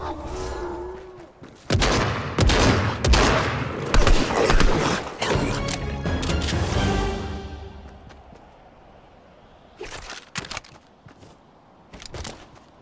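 Shotgun blasts in Fortnite, a burst of loud, close game shots crowding together for several seconds, then quieter background with a few isolated later shots.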